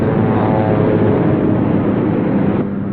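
An old car engine revving hard while its wheels spin in mud, a dense continuous roar with a churning, muffled quality that holds loud and steady throughout.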